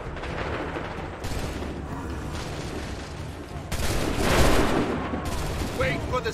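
Musket volleys crack out in Assassin's Creed III battle, with a broad burst of massed gunfire swelling midway over a continuous rumble of combat, with shouted commands nearby.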